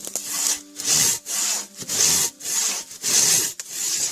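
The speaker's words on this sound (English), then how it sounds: "I'm already 3/4 through the log and I've only taken like 10 swipes." A Silky Katanaboy 650 folding saw cuts through a log with loud, close, rhythmic rasping strokes, about eight full back-and-forth pulls in steady succession, with no talk.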